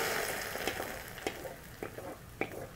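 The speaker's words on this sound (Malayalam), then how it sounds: "അപ്പോൾ കടു വറുത്ത് ഇതിനകത്തോട്ട് ഒഴിച്ചു കൊടുക്കണം" Mustard seeds fried in oil for a tempering, poured into boiling pineapple rasam: a faint, soft sizzle with a few light clinks and pops spaced through the short stretch, no voices.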